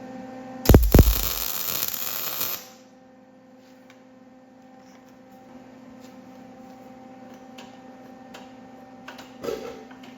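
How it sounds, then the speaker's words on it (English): Welding on a custom-built mini street bike: a loud, crackling, hissing burst lasting about two seconds, then a low electrical hum with faint ticks and a brief knock near the end. "Now we weld this here."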